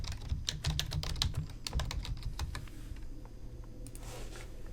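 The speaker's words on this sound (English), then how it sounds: "I type in the name of the unit, it appears right there" Rapid keystrokes on a computer keyboard as a unit name is entered, a dense burst of close, crisp clicks that thins out into a few scattered taps, over a faint low hum.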